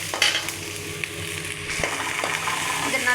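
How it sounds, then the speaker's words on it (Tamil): Steady sizzling of carrots and beans frying in oil for chicken fried rice, with a few scraping stirs of a spatula against the pan. No voices. "இதுலேயே எண்ணெயிலேயே நல்லா வதங்கணும்"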